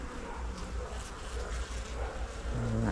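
Honey bees buzz steadily and close by throughout a hive inspection, a dense continuous drone with individual bees swelling louder near the end, with no talking.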